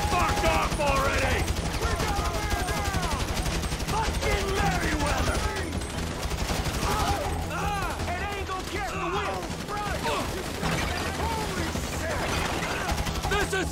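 Sustained gunfire in a GTA 5 heist shootout, dense rapid automatic bursts and scattered shots running continuously and loudly throughout, with voices mixed in.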